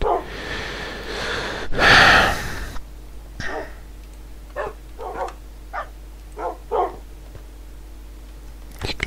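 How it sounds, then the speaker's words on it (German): A dog in the video game Minecraft whines and yelps in a string of short, separate bursts, following a louder rush of game noise at the start, with no talking. "Da ist jetzt der andere Hund, der hier rumjault."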